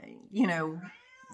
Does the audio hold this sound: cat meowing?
yes